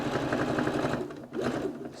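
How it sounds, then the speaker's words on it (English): A sewing machine runs along a seam, a loud close whirring drone with a fast pulsing stitch rhythm that dips briefly at about the midpoint before carrying on steadily. "So we're going to sew all the way along."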